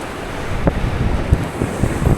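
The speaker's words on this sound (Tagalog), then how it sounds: "Ang lakas talaga ng agos, guys." Strong sea current and waves wash against a rocky shore on Camiguin Island, a steady rough roar with bursts of wind buffeting the microphone, close and loud throughout.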